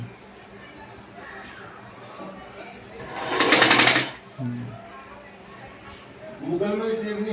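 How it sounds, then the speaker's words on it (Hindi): A sewing machine stitches a kurti in a quick burst of rapid, loud whirring that lasts about a second, framed by someone talking at a moderate level before and after. "ऐसे सिल देना है।"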